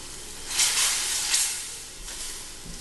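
Chicken with parsley, thyme and diced tomato simmers in a pan, a soft continuous sizzle and hiss with a couple of brief louder swells and no voices.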